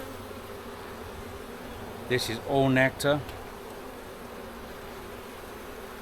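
Honey bees hum steadily throughout an open hive during an inspection with young larvae and nectar-filled frames, a dense close buzz that continues alone except for a brief stretch of someone talking in the middle.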